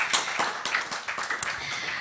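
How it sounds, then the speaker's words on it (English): A live audience claps together at a Launchpad 2021 event, with dense, scattered hand claps running steadily under faint background voices. "let's clap for ourselves as well for being patient"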